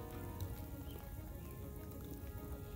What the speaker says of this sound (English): Days like today, we love being out here on this river. Rainy, miserable.